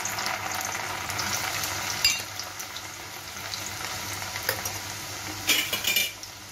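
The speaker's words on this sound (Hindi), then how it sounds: "और इसको अच्छे से फ्राई कर लेते हैं।" Chana dal frying in hot oil in a kadhai, a steady close sizzle throughout with occasional stirring clinks and brief louder bursts of bubbling near the end.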